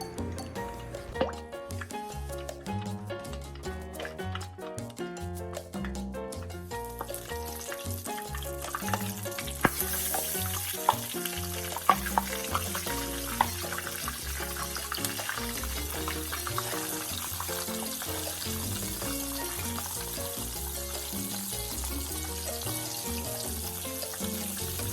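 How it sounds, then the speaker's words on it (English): Pork chops fry in hot grease on a stovetop set between 8 and 9, a dense, continuous crackling sizzle with popping spatters throughout, growing somewhat fuller partway through, close and steady. "Now we're gonna cook these to where they brown up"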